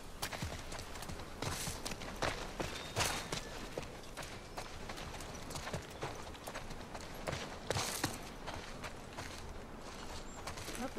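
Horse hooves clop along in The Last of Us Part II, a quiet, busy patter of steps mixed with scattered game sounds, fairly faint and continuous throughout.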